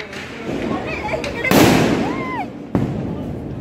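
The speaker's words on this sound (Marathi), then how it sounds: "आता हा गेला लावायला रस्सी बॉम्ब." A rope bomb firecracker goes off during Diwali celebrations with a loud crack, then crackling bursts and whistling fireworks follow, with people talking and shouting nearby.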